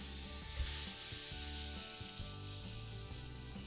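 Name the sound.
breakfast sausage sizzling in a hot skillet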